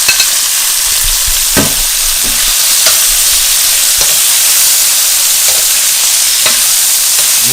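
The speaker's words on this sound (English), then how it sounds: "Add the shrimp in here." Shrimp sizzling steadily in a hot pan with peppers, a loud continuous frying hiss with occasional soft clicks of stirring, no voices.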